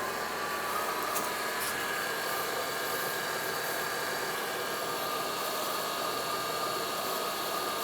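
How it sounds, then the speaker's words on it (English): A 2002-2009 Chevrolet Trailblazer with the 4.2L engine runs steadily while warming up, giving a constant, even hiss and hum with no change in pitch or level. "let's continue running this vehicle for a short while, letting it get up to normal operating temperature"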